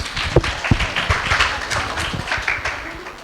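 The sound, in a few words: applause welcoming children's dance performance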